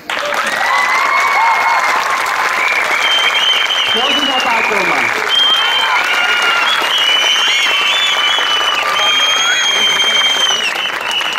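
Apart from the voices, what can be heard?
applause for the camp leader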